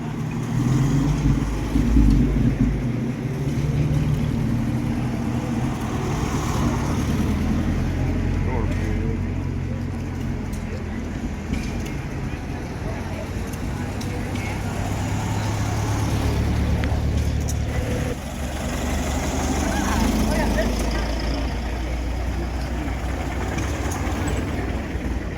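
Old steam engines run at an outdoor car festival at Greenfield Village in Dearborn, Michigan, giving a continuous loud low rumble and churn with a steady mechanical drone that persists throughout.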